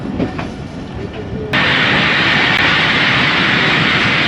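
Jaffar Express passenger train (39UP, Lahore route) running on single-line track, a steady loud rumble and rush of the carriages that jumps suddenly louder partway through, as if a door or window opened, continuing without talk.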